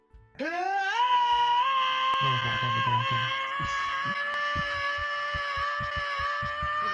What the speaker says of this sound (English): Link screaming in virtual bars